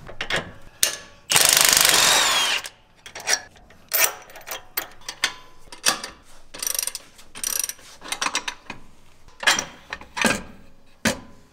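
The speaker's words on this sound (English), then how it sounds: "grab an 18 millimeter socket and an 18 millimeter wrench. Remove the sway bar links." A ratchet with an 18 mm socket clicks in short, repeated bursts while removing sway bar links on a Jeep JL Wrangler during a lift kit install. A brief loud hissing burst comes early, and there is no talking.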